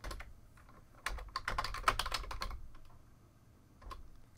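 A computer keyboard is typed on in a quick close burst of clicky keystrokes, followed by a pause and a couple of final taps.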